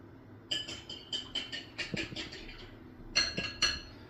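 Gummy mixture stirred in a pot with a makeshift utensil standing in for a broken whisk, giving a quiet series of clinks and scrapes against the pot in uneven bursts, close up with no talking.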